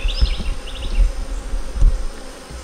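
Honeybees at an opened, queenless hive, a close, continuous buzzing with a few louder individual passes against low background rumble, no voices.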